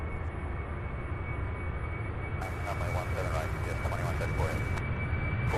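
A plane rolls for takeoff at Louisville International (SDF), its engine roar a steady distant rumble that swells slightly, while a person talks over it and radio chatter crackles in the background.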